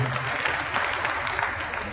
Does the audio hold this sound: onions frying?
no